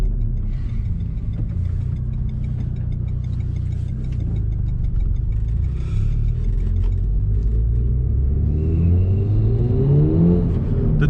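A Renault Megane R.S. Trophy-R turbocharged car accelerating, a deep engine rumble from inside the cabin that climbs steadily in pitch as the revs rise, with light ticking above it.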